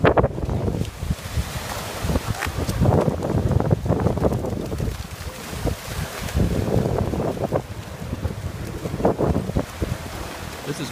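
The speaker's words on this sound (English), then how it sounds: "Are those big waves, Boo Boo?" Ocean waves wash in steadily at a dog beach, a broad rushing roar with recurring surges under heavy wind buffeting on the microphone, loud and close throughout.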